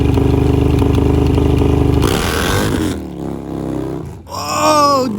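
A V-twin drag racing motorcycle runs loud and close, with a steady droning engine that breaks into a rough, clattering roar and a final rising rev during a tire burnout.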